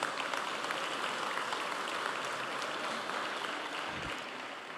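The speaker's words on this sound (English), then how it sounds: "Let's give them a round of applause." Steady, dense applause from an audience at a sheriff's office commendation ceremony, filling the room evenly for several seconds before easing off slightly near the end.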